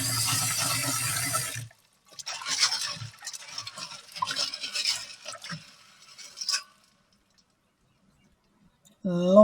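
Red peas are washed by hand in water for Jamaican rice and peas, a close swishing and sloshing with trickles and drips in irregular bursts, after a brief stretch of talk.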